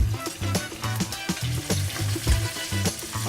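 Meatballs made with breadcrumbs or cornmeal fry in a pan with a loud, steady, close sizzle and crackle. A low rhythmic thumping pattern runs underneath.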